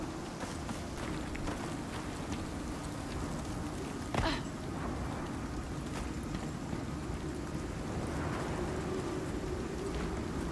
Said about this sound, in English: Now it's very light rain. Now it's a storm.